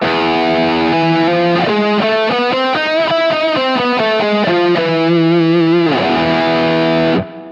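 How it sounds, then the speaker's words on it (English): Distorted electric guitar plays a melodic phrase on the Byzantine scale, sustained and quick notes with an exotic, minor-sounding feel, loud and close, ending abruptly. "I think that this is drawn from the Byzantine scale"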